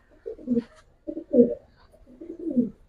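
Giribaz pigeons coo softly nearby in three low, rolling bursts separated by short pauses.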